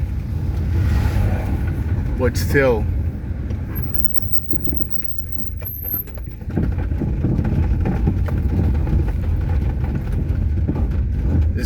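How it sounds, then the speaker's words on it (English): Trucks and an excavator work on hurricane debris cleanup outdoors, giving a continuous low mechanical rumble with broadband noise throughout, while a person talks briefly over it. "You can see excavator at work, trucks moving"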